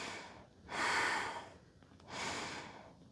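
Slow, deep yoga breaths during a hatha session in the mountains: two long airy exhalations rise and fade, close and soft, with quiet pauses between them.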